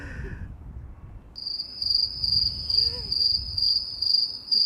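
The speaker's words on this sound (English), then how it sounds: "You can hear the crickets, eh?" Crickets chirp outdoors at an airport in summer, a steady high pulsing trill that starts after a brief moment and continues evenly over low distant rumble.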